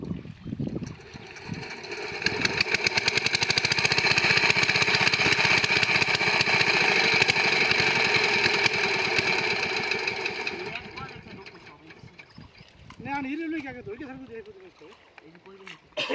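A village irrigation water pump engine chugs loudly and steadily for about ten seconds, draining a pond for fishing, then cuts out, leaving voices talking afterward.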